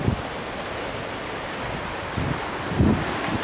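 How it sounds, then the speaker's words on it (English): Steady, rushing wind buffets the microphone beside a retractable roof greenhouse, with stronger gusts swelling near the end. No voices. "You can see that it's quite windy right now."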